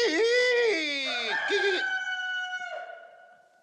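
A loud, close rooster-style crow, apparently a human voice imitating a cock-a-doodle-doo, rises and then trails off in a long drawn-out call, heard alone from a film scene.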